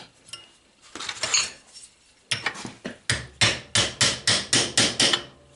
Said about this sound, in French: je prends un burin plat, je le mets en dessous et je fais le deuxième pliage